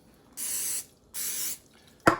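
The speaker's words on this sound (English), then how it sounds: "Spray." An aerosol can sprays oil onto a grill pan in two steady hissing bursts of about half a second each, close up, followed by a sharp clack.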